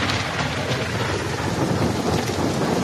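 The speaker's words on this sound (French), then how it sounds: "faut se dépêcher sinon on va se prendre l'orage" Thunderstorm during a hike, with steady heavy rain and a continuous rumbling wash of sound, loud and close, with no voices.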